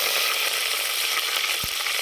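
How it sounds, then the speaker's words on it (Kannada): Mustard seeds splutter in hot oil in an outdoor village kitchen, a dense, loud crackling sizzle that runs continuously with a single low thump partway through. "ಎಣ್ಣೆ ಕಾದ್ಮೇಲೆ ಸಾಸಿವೆ ಚಟಪಟ ಅಂತ ಸಿಡಿಯುತ್ತೆ"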